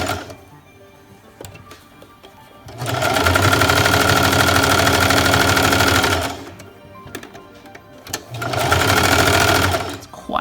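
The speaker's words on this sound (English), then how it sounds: "we are going to go in and zigzag along the edge." A sewing machine zigzag-stitches along the edge of a newborn onesie through several fabric layers, in two loud, close, whirring bursts with quieter handling noise between them.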